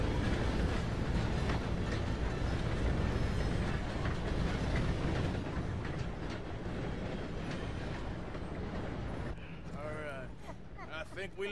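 A train rumbles past in Red Dead Redemption 2, a dense, loud rolling roar with rattling carriages that fills the scene and thins out near the end, with people talking over it.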